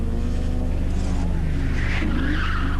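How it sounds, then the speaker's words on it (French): Rally car sliding sideways on a stage at the 1987 Ypres 24 Hours Rally, a close, loud engine roar with a rough tire scrabble over it, lasting under three seconds. "Lietard en dérapage"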